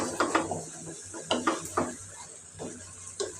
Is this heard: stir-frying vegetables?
yes